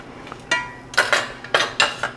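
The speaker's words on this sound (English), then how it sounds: "Now I'm going to add my meat mixture" Meat mixture tipped into a pot of homemade bolognese sauce, heard as a few close clinks and scrapes of a utensil against the pot in separate bursts.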